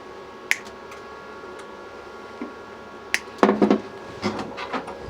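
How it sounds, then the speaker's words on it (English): A metal shroud pushed by hand onto the torch of a SIP synergic MIG welder makes a few sharp, close clicks, then a short scraping rattle as it seats, with no voices. "Torch shroud pushes on like that."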